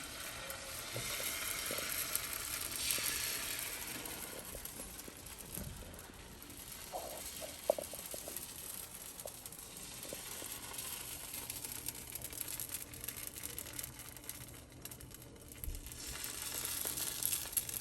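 Masala dosa batter sizzles steadily on a hot pan over medium-high heat, a continuous close crackle with faint scraping and ticks partway through.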